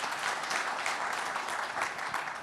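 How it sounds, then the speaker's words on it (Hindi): Dense, even applause from an audience welcoming Uttar Pradesh chief minister Yogi Adityanath to a televised interview, a steady wash of many hands clapping with no voices over it. "तालियों के साथ उनका स्वागत कीजिए।"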